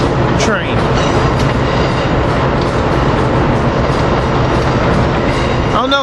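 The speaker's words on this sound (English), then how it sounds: "This is the Keystone with cab car 9644" Keystone train led by cab car 9644 rolls past a suburban station, a continuous loud rail rumble filling the whole stretch with brief squeals at the start and end.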